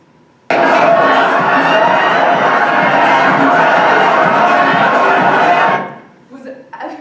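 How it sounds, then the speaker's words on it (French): Dense crowd murmur from a lavish ball at a manor, with many voices blending into a steady wall of chatter that cuts out abruptly, leaving quiet with a few faint stirrings. "Le bruit du bal s'arrête net quand je parle."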